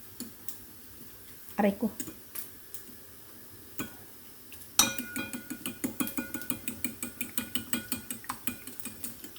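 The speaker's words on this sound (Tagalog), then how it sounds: "Batiin natin ang ating itlog" Eggs beaten in a bowl for fried rice, the utensil clicking against the sides in a steady, quick rhythm of close taps after a few scattered knocks, with someone speaking briefly.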